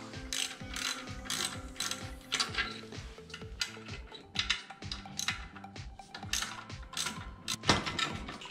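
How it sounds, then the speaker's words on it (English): A ratchet torques down the flywheel nut on a Predator 212 small engine held by a crank holding tool, giving quick, faint, repeated clicking strokes with light mechanical rattles and no talking. "so I can throw my crank holding tool on here so I can torque that flywheel down"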